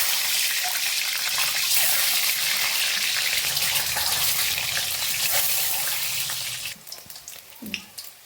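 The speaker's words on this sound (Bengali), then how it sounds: "এবার আমার কড়াই গরম হয়ে গেছে, আমি ডিম কটা ভেজে নেব।" Eggs fry in a hot wok with a loud, dense, continuous sizzle and spatter close up, fading near the end into a few clinks and softer crackles.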